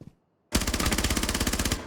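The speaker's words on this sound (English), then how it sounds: "as soon as he swings the Yana here, he's shooting instantly" Rapid automatic gunfire from a video game, a fast steady burst of shots starting abruptly after a brief near-silence and running loud and unbroken to the end.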